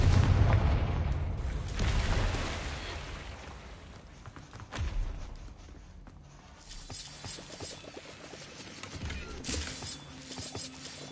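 A fire spell explodes in the video game Hogwarts Legacy, with loud booming blasts and crackling bursts up front, then a rumbling decay, a further boom midway and lighter popping effects later.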